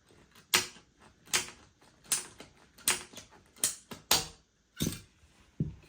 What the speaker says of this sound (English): I'll cut it in half.